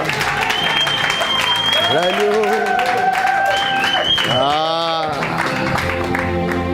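A church congregation applauds in a dense, continuous wash of clapping while voices sing or shout over it loudly.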